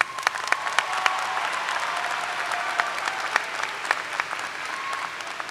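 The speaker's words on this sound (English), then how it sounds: "Graduates, a round of applause for friends, family, champions." Applause rises at a 2022 Westfield State University undergraduate commencement ceremony, steady crowd clapping with scattered sharper individual claps standing out over the sustained wash.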